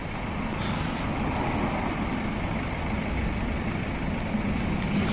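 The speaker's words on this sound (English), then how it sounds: "We've got a vehicle coming in, SG12JON." A vehicle pulls in, its engine a steady low rumble with a truck-like drone that holds at an even level throughout, with no voices over it.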